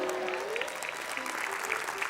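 Steady applause and foot stamping from a comedy show studio audience fills the whole stretch, dense and even, with a faint tonal line drifting underneath.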